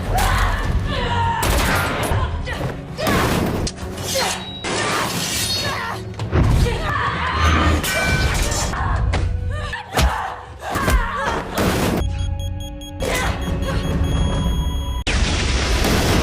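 Film fight scene inside a plane cabin erupts in a dense barrage of booms, thuds, shattering and gunfire-like cracks, loud and continuous with sharp hits throughout.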